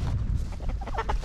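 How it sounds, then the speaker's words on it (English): Chickens cluck in a village yard, a few short close clucks and calls over a busy, rumbling outdoor background. "Look at these chickens."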